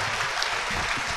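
Brief burst of audience applause at a town hall gathering in Bangi, a steady wash of many hands clapping together, with no voices over it.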